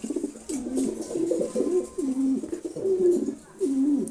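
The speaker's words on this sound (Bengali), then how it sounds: "এই যে দেখেন একটা গিরিবাজ কবুতর আমার হাতে চলে আসছে" Giribaz pigeons in a home loft coo repeatedly up close, a series of soft, rolling throaty calls in a steady rhythm, with brief pauses between phrases.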